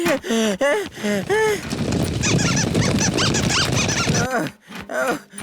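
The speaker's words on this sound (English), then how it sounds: "The squirrels are coming! Squeak. Squeak." High cartoon squirrel squeaks in short repeated bursts in a children's animated elf kingdom, first alone, then beneath a dense, busy stretch of chattering squeals and bustle before a few more clear squeaks at the end.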